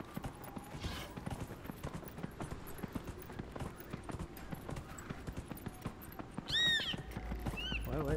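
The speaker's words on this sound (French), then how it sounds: "Je descends de la montagne à cheval." Steady, rhythmic clip-clop of galloping horse hooves descending a mountain in Dragon Age: Inquisition, with a brief whinny near the end.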